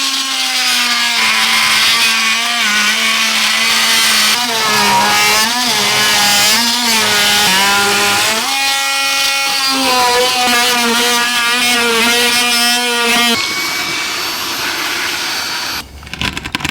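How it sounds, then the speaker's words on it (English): An oscillating multi-tool saws along an old window sill with nails that look original, giving a loud, steady buzzing drone with shifting pitch as the blade bites, then easing off near the end. "So I'm just going to cut along here and along the other end with the multi-tool"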